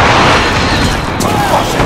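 An artillery strike in Call of Duty: Modern Warfare multiplayer, heard as a loud, continuous roar of heavy booming impacts that stays dense and sustained throughout.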